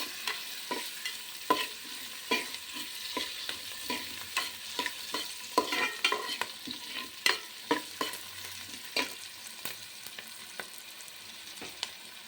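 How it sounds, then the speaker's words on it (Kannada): Chicken cooks with masala in a pan, giving a constant sizzle broken by sharp, rhythmic scrapes and knocks of stirring. The sound is close and carries no speech. "ನೋಡಿ ಫ್ರೈ ಆಗ್ತಿದೆ."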